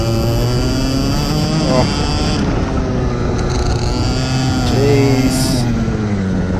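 Race cars accelerating hard on a track during a club day, a loud continuous engine roar with shifting pitch, up close and steady throughout, with a brief exclamation from a voice.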